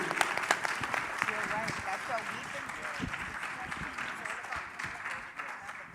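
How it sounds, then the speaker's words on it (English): Audience applause for a panel at a technology conference in Canada, with continuous clapping at moderate level and some voices and crowd chatter mixed in beneath it. "let's get a round of applause to our panel"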